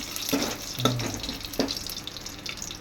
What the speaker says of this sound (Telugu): నీళ్ళు వస్తుంది కదా